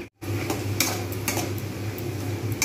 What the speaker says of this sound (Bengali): ঢাকনা খুলে ফেলেছি।